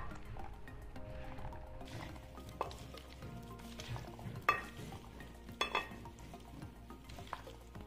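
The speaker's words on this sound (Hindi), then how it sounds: "अब इन सबको स्पैटुला की मदद से करेंगे अच्छे से मिक्स।" Red bean chaat with cucumber, green chili and tamarind pulp is mixed with a spatula, giving soft scraping and stirring sounds with occasional sharp clinks against the bowl, quiet and close, with no talking.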